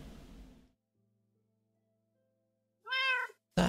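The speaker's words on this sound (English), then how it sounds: "Is that another cat?" A Minecraft cat in version 1.14 gives a single clear meow near the end, after a short stretch of near silence following some earlier noise.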